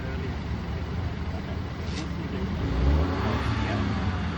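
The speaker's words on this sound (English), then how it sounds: "that one revved a bit high there." A car engine revving high at a youth driving day on a track, a throaty engine roar swelling louder near the end amid traffic-like background noise, with people talking faintly nearby.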